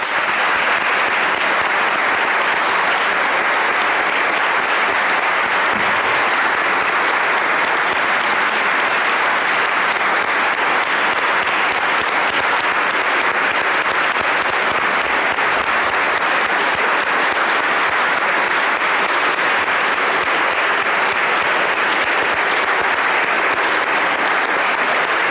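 Sustained applause fills the chamber during a Pennsylvania governor's state budget address, a dense, even wash of clapping from a large audience continuing loudly without a break.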